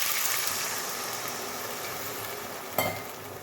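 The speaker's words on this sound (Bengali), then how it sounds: "এবার দেবো পরিমাণ মতো জল।" Water goes into a hot pan of summer vegetables, raising a close, steady sizzle and stirring hiss, then a sharp splashing burst near the end that settles back into quieter bubbling.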